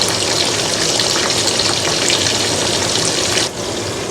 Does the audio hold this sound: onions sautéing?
yes